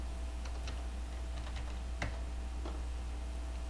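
Faint, scattered keystrokes on a computer keyboard while someone enters a value in 3D modelling software, with a few sharper taps over a steady low hum.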